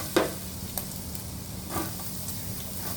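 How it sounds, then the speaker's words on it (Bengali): Chopped ginger and a little garlic fry lightly in a pan for Chinese-style fried rice, a faint steady sizzle with a few quick ladle scrapes and taps against the pan. "এবার আমি আদা কুচি, সামান্য রসুন কুচি একটু হালকা ভেজে নেব"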